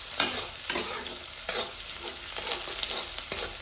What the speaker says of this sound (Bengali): এখন এর মধ্যে দিয়ে দেবো কেটে রাখা পেঁয়াজ ও মরিচ কুচি। নেড়ে চেড়ে এগুলো ব্রাউন কালার করে ভেজে নেব।